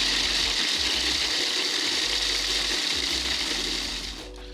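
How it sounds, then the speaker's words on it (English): A food processor grinds a handful of Ritz crackers into fine crumbs with a loud, steady whirring roar and a rattling blade. The grinding continues without pause, then begins to fade as it winds down near the end. "Bust out your handy dandy food processor, throw in a handful of Ritz crackers,"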